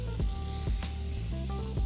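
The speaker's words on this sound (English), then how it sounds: "We're gonna spray it one more time with the paint" Aerosol spray paint being applied to a car: a steady broadband hiss runs throughout, with a few soft low thumps and faint tonal sounds underneath.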